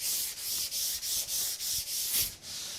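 Hand sanding of a shellacked cherry panel with 320 grit sandpaper: about eight steady, even back-and-forth rasping strokes, close and fairly loud, with no talking.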